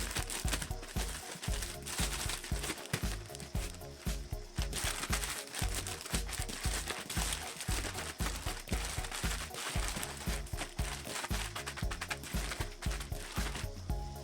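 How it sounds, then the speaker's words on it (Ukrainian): Continuous crinkling and rustling of a plastic bag as pig ears are shaken and squished in marinade inside, close and steady for the whole stretch. "Закриваємо і ретельно перемішуємо вміст пакета"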